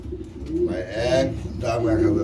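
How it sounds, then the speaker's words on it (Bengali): A male Siraji pigeon gives a few soft, rolling coos close by, with people talking over and between the calls. "সিরাজি কবুতরের নর সেটা তো ভালোই লাগতে আছে"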